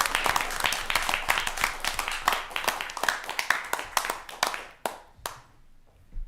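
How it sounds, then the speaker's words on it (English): Round of applause at a city council meeting, many hands clapping steadily close by, then thinning to a few scattered claps and fading out near the end. "Please give her a round of applause."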